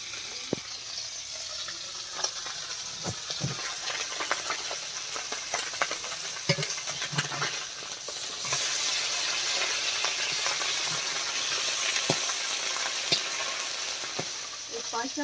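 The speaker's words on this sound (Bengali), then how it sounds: "পার্শে মাছ আর খয়রা মাছ কিন্তু ভাজতে সময় লাগে না" Small parshe and khoyra fish fry in hot oil, giving a steady sizzle throughout, with occasional sharp utensil clicks and stirring noises and a brief hint of running water nearby.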